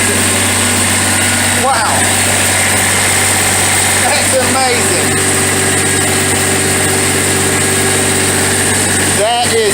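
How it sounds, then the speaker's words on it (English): A car engine turned over with a Noco GB70 jump-starter booster runs as a steady, close mechanical hum, while a voice comes in briefly now and then. "It is turning the engine, and it cranks it."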